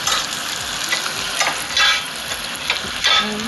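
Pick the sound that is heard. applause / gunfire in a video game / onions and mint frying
onions and mint frying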